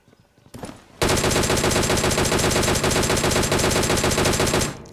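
Sustained automatic gunfire in the mobile shooter PUBG Mobile, a loud rapid stream of shots lasting several seconds after a brief quieter lead-in, with no talking over it.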